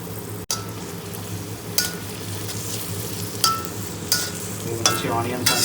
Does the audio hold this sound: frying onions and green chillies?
yes